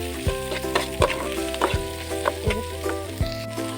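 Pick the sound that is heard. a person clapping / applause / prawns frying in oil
prawns frying in oil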